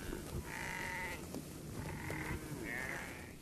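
Red Maasai sheep bleating in three drawn-out cries at close range over a rough background rumble, each bleat lasting about half a second with short pauses between.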